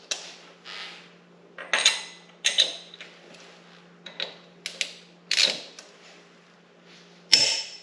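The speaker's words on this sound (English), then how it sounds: "We're going to check our lug nuts, 150 foot-pounds." A torque wrench set to 150 foot-pounds checking the lug nuts on a GT350, a series of about a dozen sharp metallic clicks and ratchet snaps at uneven intervals, close and distinct in a quiet space.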